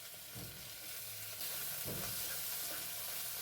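Potatoes hit hot oil in a pan with chopped onion and green chilli, the start of a hilsa fish-head squash chachchari. The sizzling is close and steady and grows louder and fuller partway through, with no talking.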